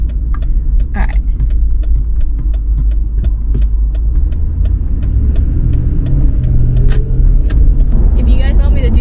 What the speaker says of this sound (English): I can't believe I'm driving by myself